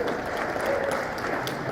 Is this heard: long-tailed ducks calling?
no